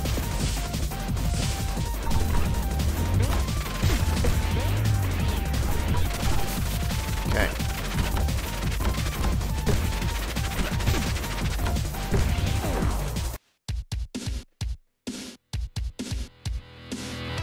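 Explosions and crashing blasts from the video game Pizza Tower, a dense run of loud, rapid booms and smashes over busy game music for about thirteen seconds, then broken into short sharp bursts separated by silences.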